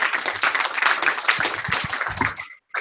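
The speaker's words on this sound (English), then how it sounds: "Let's give him a round of applause." An audience claps for a speaker after a talk on reading credit reports for tenant background checks; a dense burst of applause runs for a couple of seconds, then cuts off abruptly.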